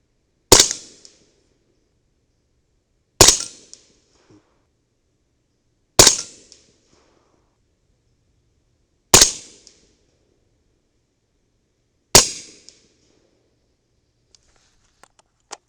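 Five loud, sharp 300 Blackout rifle shots from a CMMG 8-inch barrel firing Hornady 208 grain ELD Match ammunition, spaced about three seconds apart, each with a short echoing decay and near silence between.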